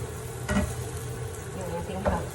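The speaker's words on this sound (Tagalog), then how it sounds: "Haluin muna natin saglit." Sweet Filipino-style spaghetti sauce sizzles softly in a pan while being stirred, with two brief scraping strokes of the utensil standing out over the quiet frying.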